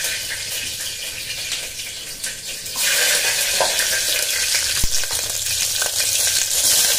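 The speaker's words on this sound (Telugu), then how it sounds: "పచ్చిమిరపకాయలు మంచిగా వేగిపోయాయి" Chopped green chillies and spices frying for cooker chicken: a continuous sizzle that grows brighter and louder partway through, with occasional clinks and scrapes of stirring close by.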